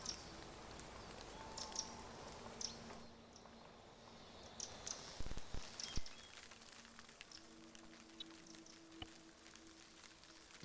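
Steady rain falls in a tactical video game match, a soft continuous wash of drops and hiss with scattered small ticks and faint in-game thumps, fairly quiet throughout and no talk.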